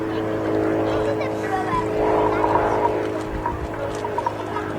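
An RAF Tutor light aircraft engine drones through an aerobatic display at Cosford Airshow, its pitch swelling and fading as the plane climbs and turns, heard from a distance beneath a commentator's steady narration.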